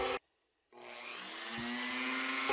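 A Dremel rotary tool cutting a nail nick into an Opinel No12 knife blade: a close, steady high whine that stops briefly, then spins back up and holds, with faint grinding against the steel.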